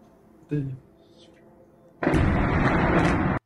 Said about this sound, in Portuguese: Explosão grande ali.